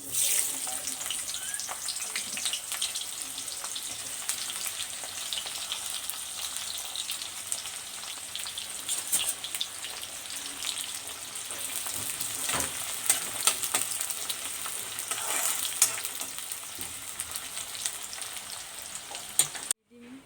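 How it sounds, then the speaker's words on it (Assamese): Sliced onions fry in oil in a pan that has just been used for frying fish, a long, even, moderately quiet sizzle with faint scattered crackles and occasional stirring clinks throughout. "পিঁয়াজখিনি ভাজি লোৱা হৈ গৈছে।"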